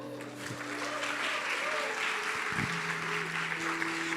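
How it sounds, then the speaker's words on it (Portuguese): An audience in a church service breaks into warm, continuous applause, many hands clapping together in a steady wash with a held tone and some voices mixed faintly underneath. "Bate um aplauso para ele."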